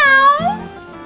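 A voice mimics a cat's meow in a single drawn-out, high, sliding call that drops in pitch, close and clear, with no other sound.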